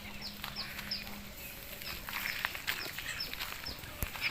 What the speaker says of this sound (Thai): นี่จะเป็นพวกไก่นุ่มสักสองสามเดือนแน่นอน